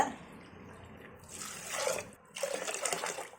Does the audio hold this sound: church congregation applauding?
no